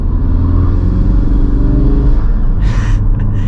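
A 2018 Ford Focus RS with its 2.3 EcoBoost engine accelerates in normal mode, giving a loud, steady low rumble with rising engine tones heard close, as from inside the car.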